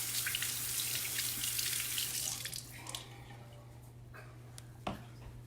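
Warm water gushes steadily from a sink tap for about two and a half seconds, then shuts off, leaving a quiet room with a low hum and a few faint drips and clinks.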